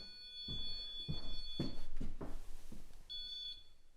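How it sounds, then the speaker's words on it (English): A REM pod paranormal detector alarm during a ghost hunt at Sulgrave Manor: a steady high electronic beeping tone sounds, drops out while several loud thumps and knocks land, then resumes near the end. "But this REM pod's activated."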